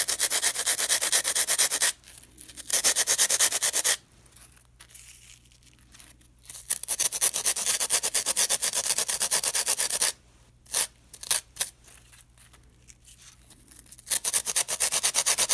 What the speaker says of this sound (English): I'm going to use my block and just sand this down a little bit